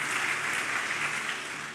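Church congregation applauding enthusiastically, a continuous wash of many hands clapping at a moderate distance, fading slightly toward the end with no talk over it.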